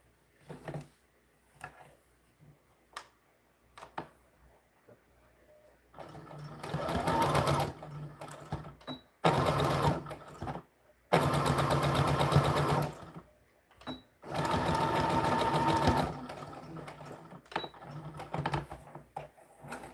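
Sewing machine stitching a skirt for American Girl doll clothes, running in several sustained bursts of a few seconds each with quiet pauses and small handling clicks between.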